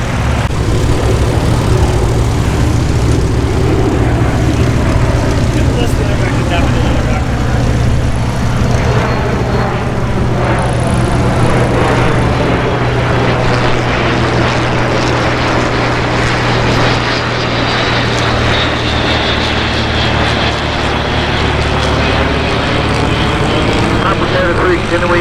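A propeller airplane drones steadily and loudly through the whole stretch, its engine note shifting slightly as it passes, during an airshow arrival circuit at EAA AirVenture Oshkosh.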